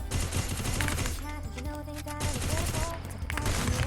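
Dense, rapid gunfire rattles from a shooting video game in quick repeated bursts, loud and continuous, with a voice talking under it.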